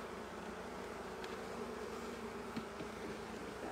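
Worker bees inside a beehive give off a dense, steady low buzz with a few faint clicks, soft and continuous throughout.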